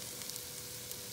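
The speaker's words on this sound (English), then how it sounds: "you're just cooking the onion just to soften a little bit" Onion softens in a hot pan for curry, giving a steady soft sizzle that stays even and fairly faint over a short stretch, with no voices.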